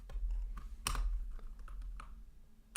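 Someone types on an 80% mechanical keyboard with brown switches, giving irregular, fairly quiet clacks and key taps close by, scattered unevenly with short pauses between bursts.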